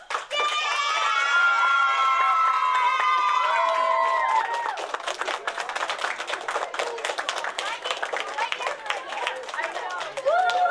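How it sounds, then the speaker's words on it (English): Applause for a teacher of the year announcement at a board of education meeting: a few seconds of sustained clapping with a musical tone at the start, then scattered, thinning claps from a room of people. "Big round of applause for Miss Mendez."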